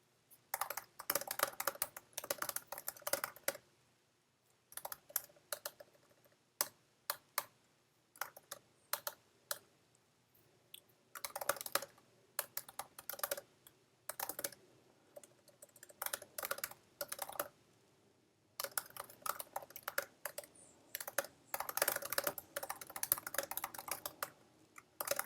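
Typing on a computer keyboard, bursts of rapid close clicks separated by short pauses, steady and alone with no talk.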